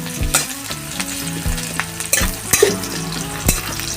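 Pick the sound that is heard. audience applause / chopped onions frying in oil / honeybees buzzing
chopped onions frying in oil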